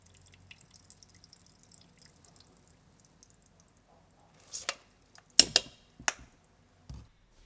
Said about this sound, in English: Strain the soaked water.